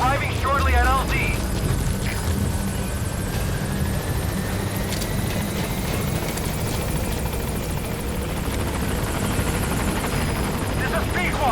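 Helicopter arriving at a landing zone in Metal Gear Solid V, its steady loud rotor thump and engine whine droning continuously, with a radio voice talking over it early on.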